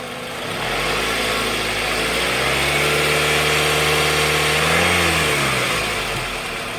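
Engine of a Toyota Previa van revving: a steady idle rises to a sustained rev, holds for a few seconds, then drops back, loud and close.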